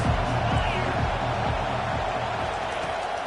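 A roaring stadium crowd at a college football game keeps up a steady, loud wash of noise for several seconds, with faint cheers mixed in.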